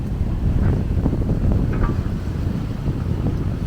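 Steady 20-knot wind roars and buffets close by aboard a sailboat leaving Puerto Princesa, Philippines, mixed with a low rumble of rushing water and hull noise, continuous throughout with no talking.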